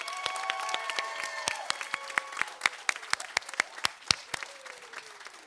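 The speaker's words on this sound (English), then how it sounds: "Let's give them a big round of applause." Applause at a 2021 school graduation ceremony: scattered, crisp individual claps ring out in an uneven rhythm, with faint voices and tones running underneath.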